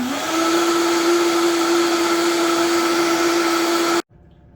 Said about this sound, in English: Then I rev it up all the way to high on the dial